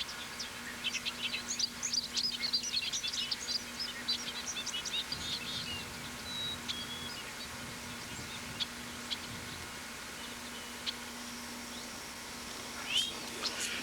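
Near heavy undergrowth and brush on Sanibel, a gray catbird gives scattered thin chirps and mewing calls, with a few more late on, set against a faint steady hum and quiet outdoor background.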